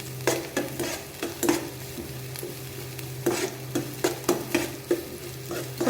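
Sliced onion frying in hot oil while being stirred, giving a steady sizzle with repeated scraping stirs at an irregular rhythm, close and fairly loud, with no talk.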